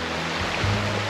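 The River Caldbeck flows beside a hiking trail in Cumbria, a steady close rush of water that fills the brief moment without voices.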